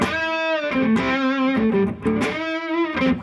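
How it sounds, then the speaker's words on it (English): Distorted electric guitar playing a sustained, gritty riff with held notes and slides, loud and close, no voices. "So I got a little distortion going on the guitar."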